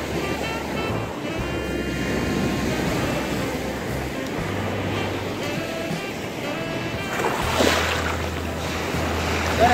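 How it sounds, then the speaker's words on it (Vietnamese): Ocean surf washes onto the beach at Bao Ninh in Quang Binh, a continuous wash of breaking waves with gusty wind buffeting the microphone, and a low rumble that comes and goes. "Tại tôi đang ở bãi biển bên khu Bảo Ninh."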